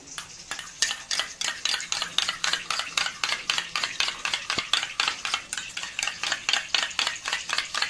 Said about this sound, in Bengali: দইটাকে ভালো করে ফেটিয়ে নিব।